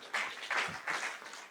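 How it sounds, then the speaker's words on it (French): Scattered applause from a small audience at a conference, soft and brief, with a few hands clapping unevenly under a general murmur. "Je sens que quelqu'un voulait applaudir."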